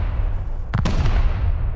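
A loud explosive-ammo blast in the survival game Rust, one sharp broadband crack followed by a quick second burst, over a constant low rumble of game ambience.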